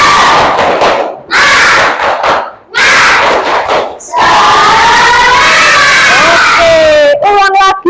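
Classroom of primary school pupils chanting a rhythmic spirit clap-and-shout routine in unison, loud bursts of shouted voices with short pauses between, ending in a rising drawn-out cry.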